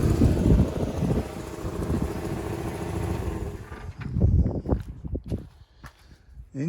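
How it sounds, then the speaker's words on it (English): Mercedes 190E engine idling steadily, loud and broadband for the first few seconds, then cut off, leaving scattered knocks and clatter with brief voices. "The engine actually sounds sweet on it, to be honest."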